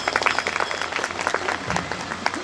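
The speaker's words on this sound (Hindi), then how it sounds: "जोरदार तालियां" Enthusiastic applause from an audience, dense clapping filling the room, loud and sustained throughout.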